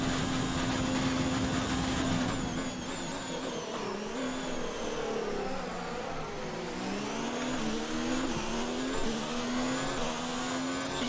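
Ferrari Formula 1 race car engine in the F1 2019 video game, racing at the China circuit, gives a continuous high-pitched whine that rises and dips as the throttle is feathered, steady and moderately loud with no talking.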